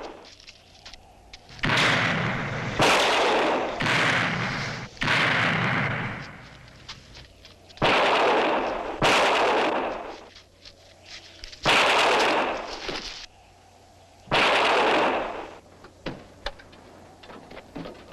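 Loud bursts of gunfire in a film shootout ring out in several separate volleys, each lasting about a second, with short gaps between them and no voices.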